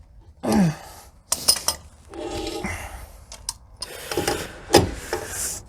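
Trailer wheel bearing spindle nut being tightened down and backed off, close metallic ratcheting and scraping clicks in short irregular bursts with brief pauses.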